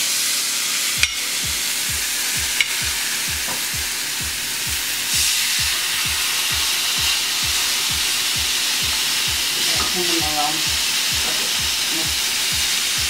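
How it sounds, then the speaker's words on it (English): A steady broadband sizzle of steaks frying in a pan with regular low thumps throughout, loud and close, with a brief voice-like burst near the end. "Hear that sizzle?"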